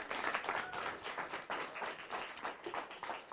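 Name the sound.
audience applause at award ceremony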